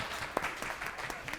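Studio audience applause on a grocery game show, a soft, steady patter of many hands clapping with a few sharper individual claps, fairly quiet and without talk.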